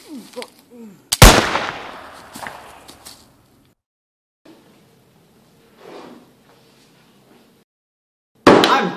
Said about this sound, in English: And now he's shooting folks in the street.